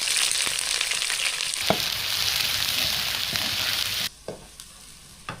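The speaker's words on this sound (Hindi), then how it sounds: "अब ये सारे प्याज मैं डालूंगी तेल में।" Chopped onions dropped into hot oil in an outdoor village kitchen cooking without gas, bursting into a loud, steady sizzle with stirring scrapes, then cutting sharply quieter near the end with a few soft clinks.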